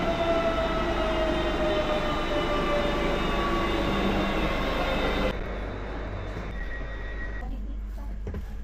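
Interior of a moving passenger train in Warsaw: a continuous rumbling roar with a steady whine, loud and even, dropping to a quieter hum partway through as the train slows.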